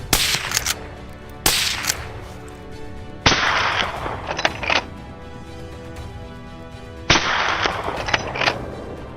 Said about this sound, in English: As the boars charged out, I fired. Gunshots echoed, breaking the forest silence.